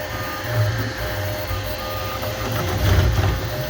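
A 3D printer prints Elegoo PLA Plus filament while the layers fail to stick together, giving a continuous close mechanical whir with steady tonal stepper-motor whines that rise and fall, and no talking.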